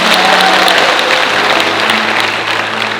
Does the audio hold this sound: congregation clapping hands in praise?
yes